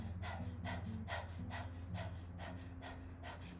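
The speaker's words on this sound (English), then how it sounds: "So let's start panting like a dog." Rapid rhythmic panting, the breath of fire of Kundalini yoga, roughly two sharp breaths per second held steady over a low background hum, close and fairly soft, with no talking.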